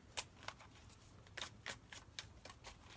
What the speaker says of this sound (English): I'm gonna give it one more shuffle.